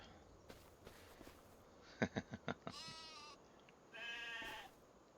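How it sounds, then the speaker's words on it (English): Two synthetic sheep bleats, one at mid-clip and a longer one near the end, with a quick run of soft footsteps between them over faint background hum. "Little baby black sheep."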